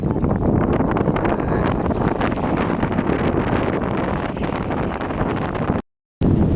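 Strong wind buffets the microphone in a steady, loud roar at a fishing spot on Taal Lake, broken by a brief silent gap near the end.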